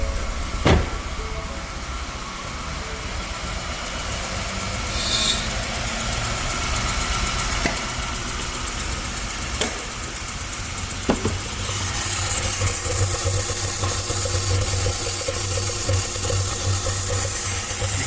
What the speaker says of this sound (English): So let's actually start it up and listen to it.